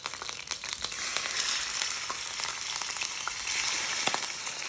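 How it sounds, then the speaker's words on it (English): Chicken frying in desi ghee on high heat, a loud, continuous crackling sizzle with scattered sharp pops throughout and no talking. "We're going to add our chicken into our ghee, and we're going to seal this chicken on high heat"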